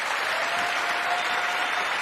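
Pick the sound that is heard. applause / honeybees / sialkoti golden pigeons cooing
applause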